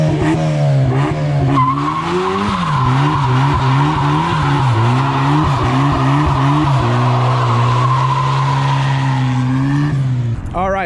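A Mazda Miata fitted with a Torsen differential doing a burnout, its engine held high and wavering while the tires squeal loudly and continuously, close and sustained, with voices faintly underneath.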